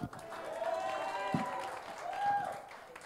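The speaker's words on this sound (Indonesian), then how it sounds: "Boleh tepuk tangan lagi untuk Pak Heri dong" Audience clapping at an Easter church service, moderate and somewhat distant, mixed with voices and a sustained musical tone underneath.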